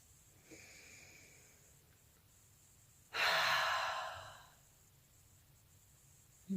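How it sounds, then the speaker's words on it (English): A single long, deep breath drawn in and released during a guided meditation, loud and close, with breathy airflow rising sharply and fading over about a second and a half against a quiet background. "And take a deep breath."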